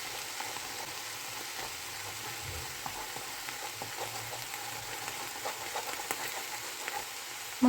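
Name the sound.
beaten eggs with salt frying and stirred in pan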